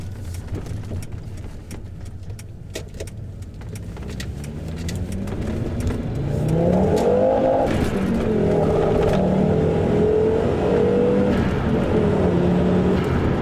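A Volvo 850 Turbo with its five-cylinder engine, heard from the moving car: a low steady drone swells into a louder, rising, throaty rev as it accelerates, then holds a strong sustained pull.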